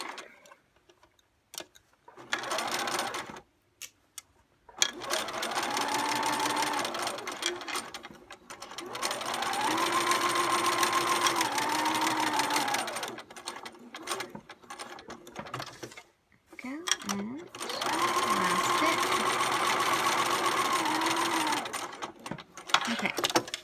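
A sewing machine stitching a quilt block runs in three long bursts of steady mechanical whirring and ticking, separated by quiet pauses with handling noise, close and moderately loud.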